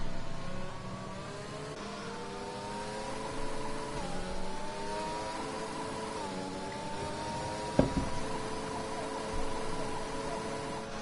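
Open-wheel racing car engines droning at Monza in a Virtual Formula League sim race, several steady harmonic engine whines under a safety car at moderate pace, continuous and fairly loud with a brief sharp knock near the end.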